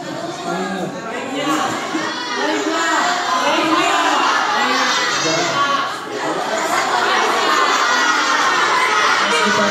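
A crowd of high school students from SMA Negeri 9 Medan on a study tour cheers, shouts and claps together, a loud continuous roar of young voices that dips briefly before swelling again.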